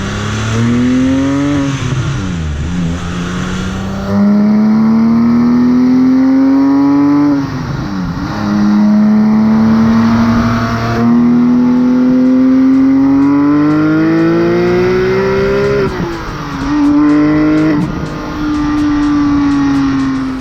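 A Porsche 997.1 GT3 RS flat-six revs hard through repeated climbs in pitch, each long pull broken by a quick drop as it shifts, loud and close with no voices.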